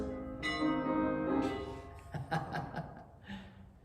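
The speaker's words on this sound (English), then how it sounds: "We ring the bell not only to raise the vibration of the chapel" A chapel bell rings at the start of a church service, sounding a sustained ringing tone that fades, followed by a few softer struck tones in a quiet room.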